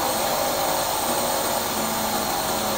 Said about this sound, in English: push this green button, and the HEPA filters was cleaning automatically